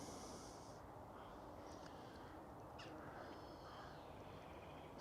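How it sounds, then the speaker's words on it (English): Birds, likely crows, calling overhead outdoors: a few distant, faint caws over steady broadband wind or traffic hiss. "birds up there now."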